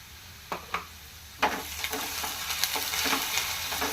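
Ginger garlic paste and a bay leaf hit hot oil in a pan for a soya chunk curry, setting off a steady close sizzle with a few sharp spatters and stirring scrapes, no talking.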